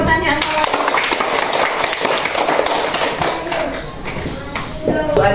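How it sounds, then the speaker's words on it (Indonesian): Schoolchildren in a classroom clapping their hands together, a dense, steady patter of many small claps running throughout, with voices and chatter mixed in. "Tepuk tangan untuk pertanyaan"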